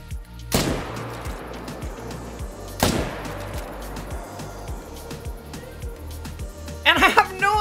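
Two sharp, loud rifle shots from a .300 hunting rifle in the Call of the Wild video game crack a few seconds apart, each followed by a fading echo, with brief rustling near the end.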